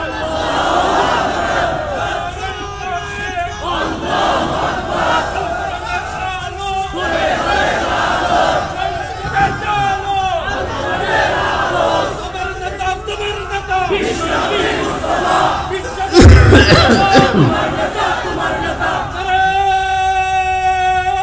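A large religious gathering roars back in unison after a call for takbir, several swelling waves of massed shouting rising and falling in a steady chant, loud and close, with a brief sharp thump near the end.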